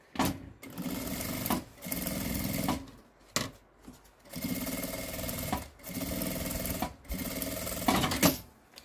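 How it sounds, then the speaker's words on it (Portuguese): A sewing machine runs in repeated bursts as it stitches a children's bag, each run lasting about a second or more and separated by short pauses, close by and moderately loud with no talking. "Eu vou passar aqui uma costurinha rebatendo de meio pé de máquina, tá?"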